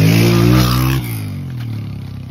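A motorcycle engine revs hard and loud up close, then drops off and settles into a lower, fading drone for the last second or so, with no talking.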